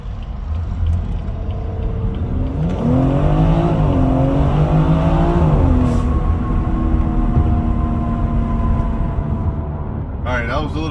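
Tuned all-wheel-drive BMW launched hard from around 20 mph, its engine note climbing and swelling through rising revs, then settling into a steady drone; it stays loud throughout with some road rumble beneath.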